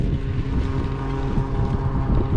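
Strong wind gusting across an open airfield at Rock Hill, South Carolina, a loud continuous roar with a low rumbling buffet and no voices.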